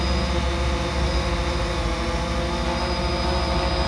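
A DJI Phantom 3 Standard drone hovers close by, giving off a steady, loud motor whine with layered buzzing tones that holds level throughout, with no talking.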